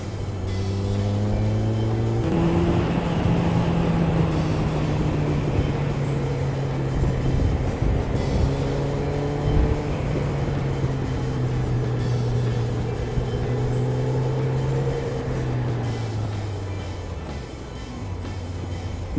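A Kawasaki ZZR1200 motorcycle rides along a road, its engine droning steadily and close with shifting pitch and wind rush throughout, easing slightly near the end.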